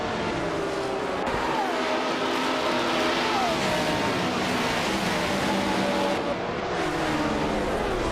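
Race cars in a racing video game, including a classic 1977 Porsche 936, roar off the start line, a dense, continuous wall of loud engine noise with rising revs and overlapping cars passing close.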